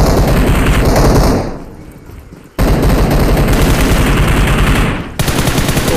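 Rapid automatic gunfire from the battle royale game BGMI rattles loud and close in sustained bursts, breaking off briefly around two seconds in before resuming just as dense, with no speech.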